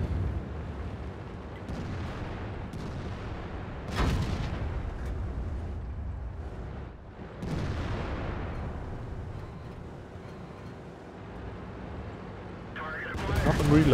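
Heavy tank cannons firing high-explosive shells in World of Tanks, several booming shots with long rumbling tails at uneven intervals over continuous engine and battle rumble, loud and close.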